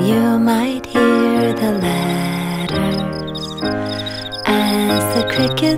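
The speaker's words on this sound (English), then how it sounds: "as the crickets sing your bedtime alphabet" Crickets chirping in a bedtime nursery rhyme animation, with a steady stream of rhythmic chirps alongside a gentle sung melody and soft backing music throughout.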